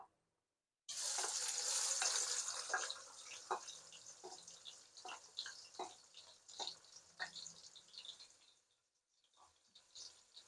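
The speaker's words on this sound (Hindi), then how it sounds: "प्याज़ों को गोल्डन ब्राउन होने तक पकाएंगे, फ्राई करेंगे।" Onions frying in oil in a large pan as the base for degi dal chana pulao, a loud steady sizzle with stirring scrapes and clinks that fades after several seconds, no talking.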